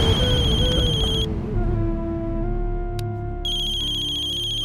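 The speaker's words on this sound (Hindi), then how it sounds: "वकील साहब का फोन" A phone ringtone plays loud and close as a repeating electronic melody with steady tones that cuts off and starts again, with no voices.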